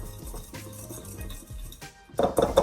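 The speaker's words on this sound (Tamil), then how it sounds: "இப்போ நாங்கள் பட்டரை நல்லா மிக்ஸ் பண்ணிடலாம்" Butter being mixed in a bowl for butter biscuits: soft scraping and stirring, then sharper, louder clinks of a utensil against the bowl toward the end, with no talking.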